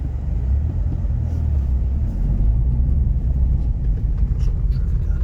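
Steady, loud low rumble of car engines and road traffic around a moving vehicle in busy Rome, Italy, with a continuous roadway drone throughout.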